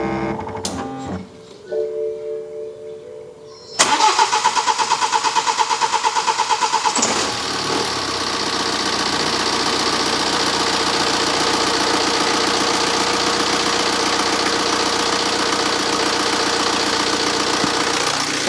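A BMW diesel engine, just repaired after bleeding the fuel system, cranks briefly and fires up, then settles into a loud, steady idle with a clattery diesel rattle, close by and without talk.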